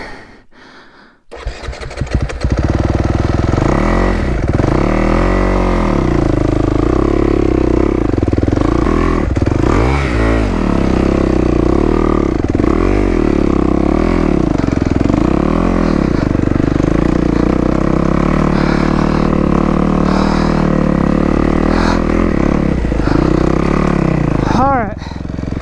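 A dirt bike engine starts and then revs and labors steadily as the bike climbs up out of a rut on a trail ride near War, West Virginia; loud and close throughout, with a rider's voice over the engine.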